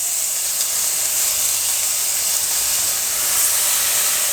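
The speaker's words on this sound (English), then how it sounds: "We're going to add in the beef steak without the sauce" Beef steak for Filipino bistek sizzling in a frying pan, a loud, constant hiss of frying close by, unbroken and with no talk.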